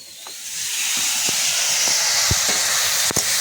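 Ground garlic and chili paste hitting a hot pan for egg chops, a loud sustained hiss and steam rush with a few faint knocks under it, close and alone.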